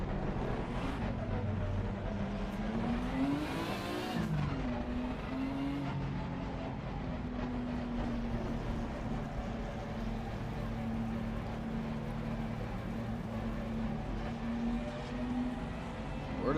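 A Lamborghini race car engine drones steadily in Assetto Corsa Competizione during an online sim race, with a rising and falling rev sweep early on and wind-like rushing noise throughout.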